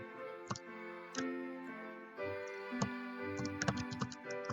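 Keys tapped on a computer keyboard while a box labelled for a school contest is filled in, irregular clicks in short bursts with pauses, fairly quiet against a steady tonal background.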